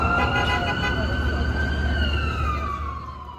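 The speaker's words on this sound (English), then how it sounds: "You can hear the sirens, you can hear the horns blowing." A siren wails steadily against the hum of New York City traffic near Times Square, its tone sliding slowly downward as it gradually fades.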